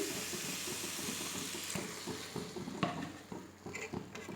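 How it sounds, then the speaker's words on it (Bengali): Masala for a paneer dish cooking in a pan with a little added water, a low hiss and sizzle under soft stirring scrapes and occasional light utensil taps, quiet and close. "হালকা একটু কষিয়ে নেব মশলাটা।"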